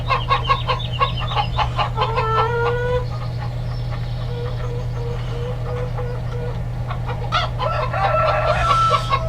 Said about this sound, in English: so we're going to go and have a look at our chickens